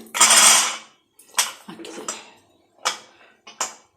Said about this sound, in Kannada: ಈಗ ಕುಕ್ಕರ್ ಕ್ಲೋಸ್ ಮಾಡ್ತೀನಿ